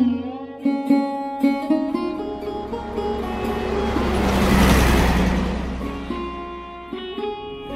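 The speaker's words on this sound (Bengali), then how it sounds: "ওদের সংবাদ মাধ্যমের গাড়িটাও লাল মাটি উড়িয়ে এগিয়ে চলেছে গ্রাম্য পথ বেয়ে" A car rolling along a red-earth village road in a dramatised horror story, a steady engine rumble that swells to a close pass near the middle and then fades, with tonal music playing over it throughout.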